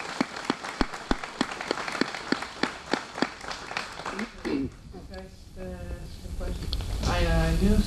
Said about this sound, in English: just a round of applause for Steve Ronk, Chief Ronk